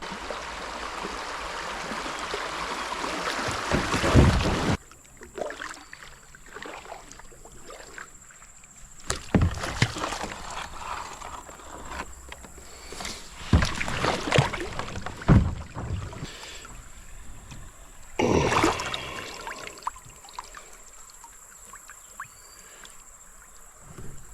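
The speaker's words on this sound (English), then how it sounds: "So let's get to paddling." A canoe is paddled down a creek, with irregular splashy paddle strokes and water swishes close by, separated by quieter gaps and light wind.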